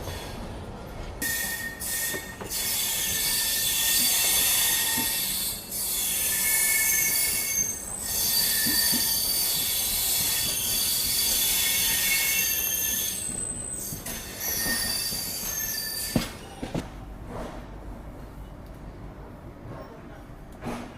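A train pulls into Kharagpur Junction railway station with loud, sustained metallic wheel squeal that rises and falls across the clip, ending with a few heavy clunks and rumbles as the cars slow.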